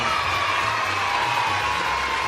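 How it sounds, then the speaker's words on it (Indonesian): Schoolchildren in an Indonesian classroom cheer and clap after a maths lesson, a steady, loud crowd of young voices with shouting and applause filling the short moment. "Tepuk tangan untuk kalian semua."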